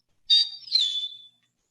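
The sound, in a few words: eastern meadowlark two-whistle call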